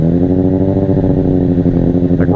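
A Honda CBR600RR sport bike engine held steady at high RPM, a loud, close, buzzing drone with a rapid pulsing ripple and no talk over it.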